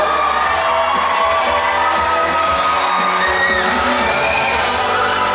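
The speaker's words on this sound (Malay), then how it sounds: "Kita berikan tepukan kepada saudara Diko Emmanuel." Crowd at a Mr Kaamatan 2023 pageant in Sabah cheers and whoops for the winner, a dense, continuous roar of shouts and applause filling the hall throughout.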